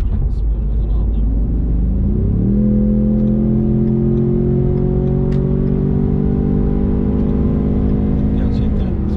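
A Ford Mustang EcoBoost with 315 HP accelerates in sport mode, its engine rumbling loud and close as the revs climb steadily and hold under a droning in-cabin tone.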